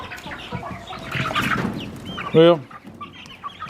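Chickens in an upstairs barn coop cluck in a busy, close jumble, with one louder squawk standing out briefly near the end, and a voice speaking a word over the flock.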